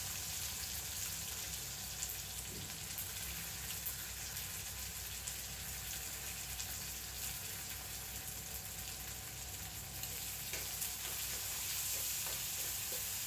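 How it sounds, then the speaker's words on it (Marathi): Green chillies, curry leaves and onion with garlic fry in hot oil for a Konkani alu leaf dish, giving a loud, steady, close-up sizzle with dense crackle throughout and occasional stirring scrapes. "आणि आता मी मिरच्या टाकते, कढीपत्ता टाकते आणि कांदा सगळं मी एकत्र टाकणार आहे"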